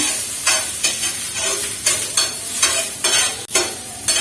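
Onions frying and being stirred on an iron dosa tawa: a steady loud sizzle with repeated scraping strokes of the spatula, roughly one every half second, close up and with no voices.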